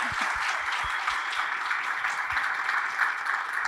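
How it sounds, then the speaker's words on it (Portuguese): An audience at a retail business talk on data-driven management gives a round of applause: continuous, even clapping with a few closer, sharper claps standing out. "Uma salva de palmas."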